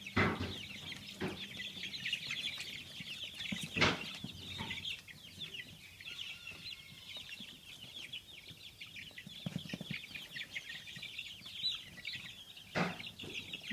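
Chickens cluck and squawk intermittently, startled by a curious dog nearby, with scattered sharp calls and short bursts spread over a quiet outdoor background.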